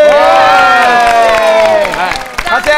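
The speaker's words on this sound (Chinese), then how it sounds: "掌声鼓励一下" A studio audience at a comedy show roars with loud, close cheering and shouting voices over scattered applause, swelling at first and then thinning out with a few last whoops.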